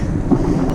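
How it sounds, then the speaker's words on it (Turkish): Strong wind buffets the microphone of a moving bicycle in a steady, low roar, loud and continuous with no other sounds standing out. "Inanılmaz bir rüzgar var."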